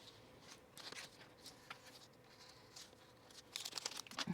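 Scissors trimming fabric from a sewing pattern piece at an armhole, faint close snips and paper-like rustles, with a quicker burst of crisp cutting near the end.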